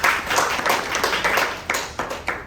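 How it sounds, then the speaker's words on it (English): Brief scattered clapping from a small Toastmasters debate audience, with distinct individual claps audible in a loose rhythm that fades out within a couple of seconds. "Round of applause."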